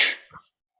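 A single sharp sneeze bursts out close up, followed by a brief muffled breath and then quiet.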